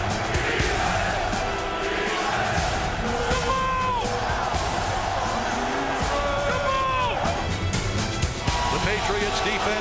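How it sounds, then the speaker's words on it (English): A stadium crowd of football fans roars steadily at Gillette Stadium during a Patriots game, a dense continuous wash of cheering with whistles and whoops rising above it, while an announcer narrates over the top. "the crowd roared back to life"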